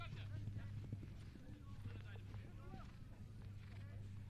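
Polo ponies' hooves clip-clop faintly during a Nations Cup polo match, a loose patter beneath continuous commentary.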